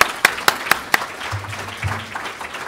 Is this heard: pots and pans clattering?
no